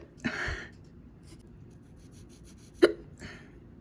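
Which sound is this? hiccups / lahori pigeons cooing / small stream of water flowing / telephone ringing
hiccups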